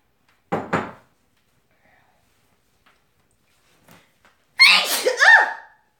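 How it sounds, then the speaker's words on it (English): Two quick sneezes close together, then a pause with faint rustling, followed by a louder, drawn-out sneeze with a voiced cry. "Oh, the sneezing is for real, y'all."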